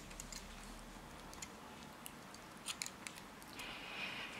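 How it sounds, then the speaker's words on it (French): Scissors snip through crochet yarn while making a child's sweater, a few close, crisp cuts clustered near the middle followed by a brief soft rustle, quiet and alone without talk. "On va couper le fil"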